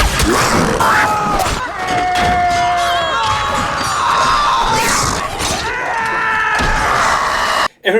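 Frantic screaming and shouting from a Lord of the Rings: The Fellowship of the Ring film scene, a dense, loud, continuous clamour mixed with crashing noise that cuts off abruptly near the end.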